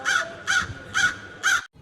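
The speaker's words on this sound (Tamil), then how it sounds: "காக்காலாம் வீட்டுக்குள்ள வாக்கிங் போயிட்டு போகுது." Cartoon crows walking around inside a house caw four times in a steady, evenly spaced rhythm, each caw loud, close and harsh, with no talking.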